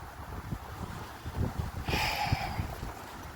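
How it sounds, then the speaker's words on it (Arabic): Strong wind gusting outdoors on a street in Riyadh, Saudi Arabia, a low rushing roar that swells and buffets the microphone, with a brighter hiss surging partway through. "الدنيا قلبت هوا كده بطريقه فظيعه"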